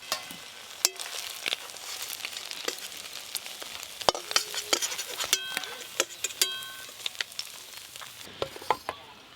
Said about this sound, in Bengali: চিংড়ি মাছগুলো একদম হালকা করে ভাজা হয়ে গেছে